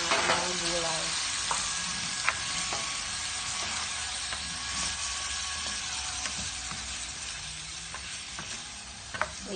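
Beef, broccoli, carrots and bell pepper stir-frying in a hot pan, a steady loud sizzle broken by occasional sharp clinks of a utensil, with no talk.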